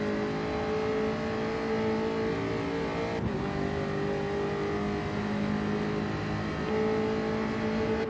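Gr3 race cars race around the Tokyo docks circuit in Gran Turismo 7, a dense layered drone of several engines holding high revs together with brief shifts in pitch, steady and loud without any talk.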